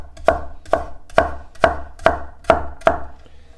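A knife chops a red onion on a cutting board with seven crisp, evenly spaced thuds, close and loud, with no talking.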